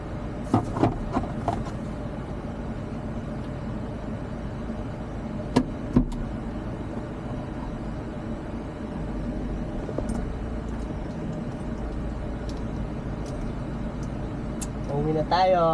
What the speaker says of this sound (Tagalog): papainitan ng sasakyan